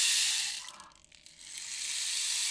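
A hand-shaken rain stick imitating gently falling rain gives a steady, close, bright hiss that briefly thins and dips in the middle before swelling back to a full, even patter.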